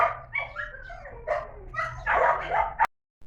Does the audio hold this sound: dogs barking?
yes